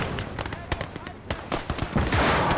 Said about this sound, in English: And you can hear them shooting out of the windows.